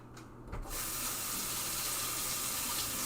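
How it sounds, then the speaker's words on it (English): A kitchen water tap is switched on after a few quiet clatters and then runs steadily into the sink, a constant close hissing stream. "I'm going to turn my water on."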